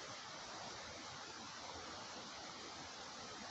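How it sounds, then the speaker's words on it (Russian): A river flowing through a forested gorge gives a continuous, even, broadband rush of water, faint and distant, with no other sounds standing out. "река течет"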